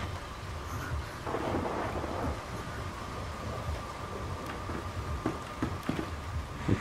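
A thunderstorm in the video game Fatal Frame 5 rolls on with low, rumbling thunder under a constant hiss of rain, with a few sharper crackles building toward the end.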